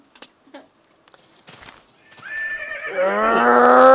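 A Minecraft horse neighs loudly and at length near the end, building from quiet clip-clop steps and brief clicks into a rising whinny that fills the final second and a half.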